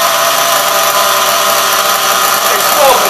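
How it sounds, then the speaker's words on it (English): A big nitro engine in an HPI Savage RC truck runs steadily at a loud, continuous idle, a dense buzzing drone that holds without pause. "Idling pretty good right there."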